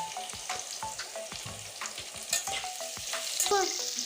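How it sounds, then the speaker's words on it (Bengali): Potatoes frying in a pan: a constant hot-oil sizzle broken by frequent sharp scrapes and clinks of a spatula stirring, close and fairly loud, no voices. "দেখুন আমি কত সুন্দর করে আলুগুলো ভাজতেছি"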